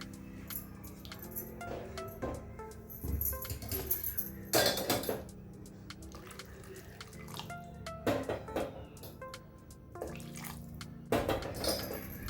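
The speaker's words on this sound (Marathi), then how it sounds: "त्या अंदाजानेच पाणी घालायचं आहे" Water trickles and splashes into a pot of fish curry among clinks of utensils against metal, close by, with no talking.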